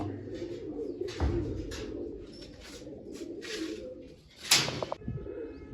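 Pigeons coo close by in soft, repeated low calls, with a couple of brief flurries of wing flaps.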